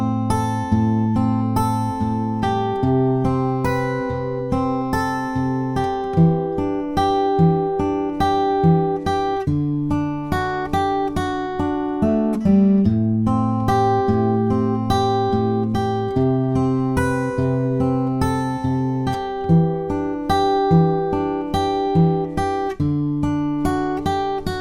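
An acoustic guitar fingerpicks the chorus of a song in a steady pattern of plucked notes over shifting chords. It plays close and clear for about twenty-five seconds, with no voice.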